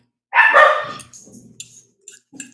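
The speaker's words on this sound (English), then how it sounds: "Oh, barking again." A dog gives one loud, close bark that trails off, followed by a few faint fainter yips or noises in an otherwise quiet outdoor setting with no one talking.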